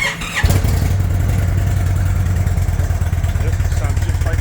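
An Indian motorcycle engine cranks and fires, then settles into a loud, close, steady idle rumble with a throaty exhaust note.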